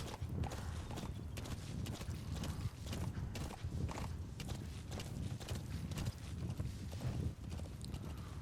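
Steady, rapid hoofbeats clip-clop continuously, a horse in Metal Gear Solid V: The Phantom Pain moving at a brisk pace with an even rhythm, quiet but constant throughout.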